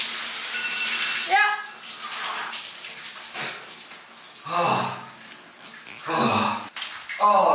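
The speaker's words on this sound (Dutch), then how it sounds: "Lekker douchen. Douchen, douchen." A shower runs with hissing, splashing water that shifts as the spray hits a body and surfaces, fairly close and loud, with voices and exclamations breaking in throughout.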